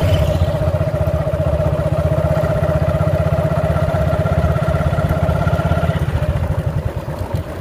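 A motorcycle engine runs while riding, a loud, close, steady putter with a firm rhythmic pulse that holds throughout and eases slightly at the end, with no talking.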